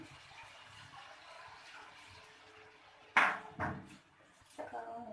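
Water poured into a pan while making aloo posto, a potato and poppy seed dish: a short splashing pour that rises suddenly and then trails off, after quieter kitchen background.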